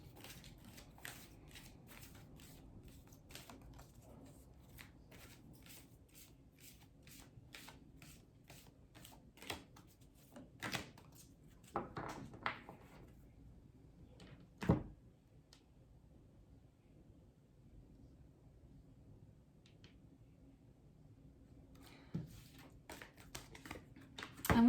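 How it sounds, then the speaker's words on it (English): Oracle cards being handled and shuffled over a long stretch, a quiet run of soft rapid flicks and riffles, then sparser louder snaps and taps as a card is drawn, with no talking. "So let's pull a card for that."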